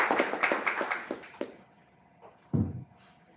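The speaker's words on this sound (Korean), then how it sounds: "박수로 맞이할까요?" A small conference audience at a tech talk claps briefly, a handful of distinct sharp claps that fade out within about a second and a half, followed by quiet and a short thud near the microphone.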